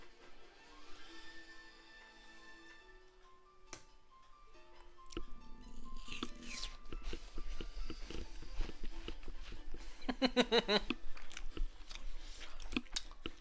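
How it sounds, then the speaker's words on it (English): A person chewing and crunching on food that contains eggs, with moist bites growing louder and more frequent, closest together toward the end, over faint background tones. "We can hear you chewing."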